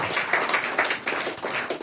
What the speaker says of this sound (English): May I ask that we keep on clapping for them?